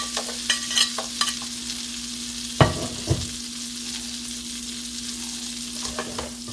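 Garlic sizzles and crackles in browning butter in a pan, a constant frying hiss broken by a few sharper pops and stirring scrapes, close and clear with no talking.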